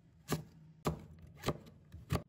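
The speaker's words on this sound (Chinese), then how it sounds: "切好后再改刀切成细丝，也是切得越细越好" Knife slicing radish into fine shreds on a board, four crisp chops at an even, unhurried pace, close and clear with no talk.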